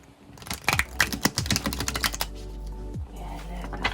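Dame Darcy Mermaid tarot cards being riffle shuffled up close, a quick run of crisp flicking clicks that speeds into a dense burst before easing into a softer rustle.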